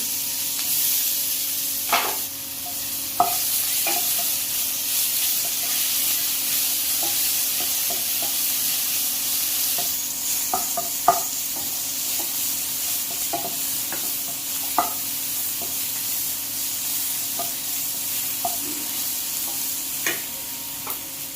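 Tomatoes fry and get stirred in a pan for an egg curry, a soft continuous sizzle with scattered clicks and scrapes of the spoon against the pan, no voices.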